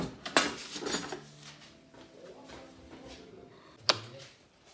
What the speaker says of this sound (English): we're gonna take our pan pusher and push it out